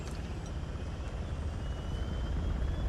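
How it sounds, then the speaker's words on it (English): A helicopter lifts off in the Uncharted: The Lost Legacy video game, its steady rotor and engine rumble growing slightly louder throughout with no talking. "The chopper's airborne."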